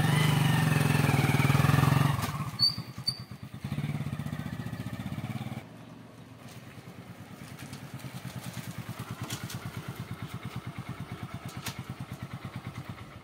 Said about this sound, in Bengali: ইঞ্জিনের সাউন্ড ঠিক আছে না?